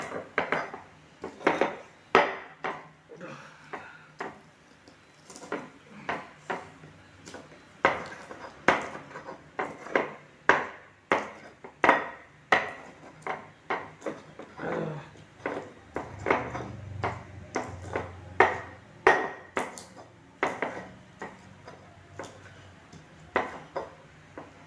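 Pestle pounding chicken and spices for Indonesian ayam geprek, a long run of sharp, fairly regular near knocks on a mortar with scraping and clinks between strikes, no talk.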